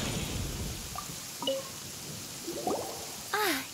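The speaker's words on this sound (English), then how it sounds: "Let us find shelter from the rain." Faint steady rain hiss in the video game Fleeting Colors in Flight, with a few sparse, high plinking drips scattered across it.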